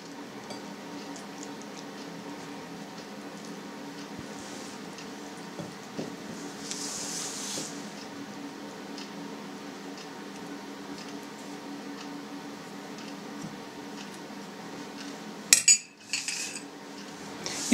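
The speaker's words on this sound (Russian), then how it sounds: "Вначале перемешиваем ложкой." A spoon mixing placinda dough in a bowl, soft repeated scraping and clinks against the bowl at a low, steady level, with a louder knock and scrape near the end.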